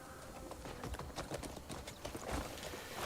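Horse hooves clip-clop at an even trotting rhythm in the video game Crimson Desert, quiet and mid-distance over soft background ambience.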